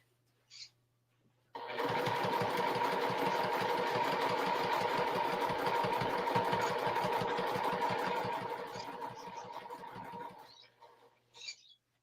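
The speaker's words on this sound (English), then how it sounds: "I feel a little bit sad sewing through these giraffes, quilting this." A sewing machine quilting fabric printed with giraffes, running in a fast, steady, rattling stitch for about nine seconds after a brief pause, then slowing and stopping, with faint clicks around it.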